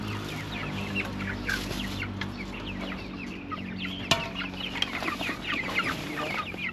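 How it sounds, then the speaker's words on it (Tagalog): Backyard chickens cluck busily while being fed, several birds calling in short overlapping bursts at close range over a low steady background hum, with a couple of sharp knocks and no talking. "So next natin mga katunying ay yung mga manok natin dito."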